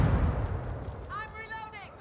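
A frag grenade explodes in Call of Duty: Modern Warfare II, a heavy low boom at the start that rumbles away, followed by a voice calling out.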